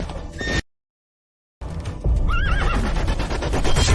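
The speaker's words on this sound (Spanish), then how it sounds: "¡El caballo está asustado!" A frightened black horse whinnies in shrill, wavering neighs amid loud hoof clatter and dusty commotion, after a brief cut to silence.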